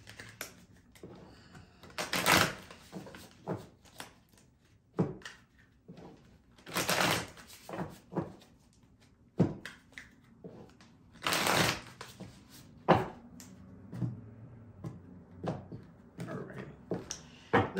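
Tarot cards are shuffled in repeated bursts of riffling and slapping, close and fairly loud, separated by short pauses.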